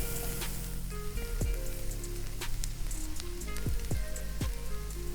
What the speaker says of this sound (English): And to the onions, we're also going to add some garlic. Let's saute this up.